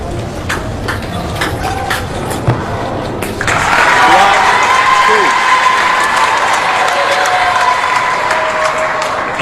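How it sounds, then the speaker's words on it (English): Arena crowd at a table tennis final applauding and cheering for Timo Boll against Xu Xin; a few sharp ball and paddle knocks first, then a sustained loud wash of clapping with a commentator talking over it. "you can hear the support for Timo Boll in the crowd"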